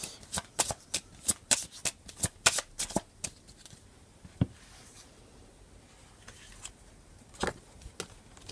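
Tarot cards are shuffled for a reading, a quick run of crisp riffling snaps and slaps close by, then a pause with a few scattered taps and later flicks.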